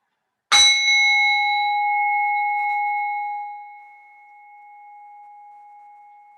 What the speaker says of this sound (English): allowing the vibration of the gong to be the movement